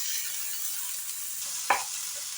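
Finely chopped tomato is stirred into well-roasted onions frying in a pan, with a soft, steady sizzle and one brief stirring scrape or clink near the close.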